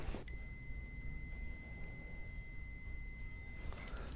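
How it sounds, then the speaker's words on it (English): An ohm meter tests a car charger fuse for continuity, sounding one steady high-pitched beep that holds for about three seconds before cutting off. "let me take an ohm meter to that, see if I have continuity."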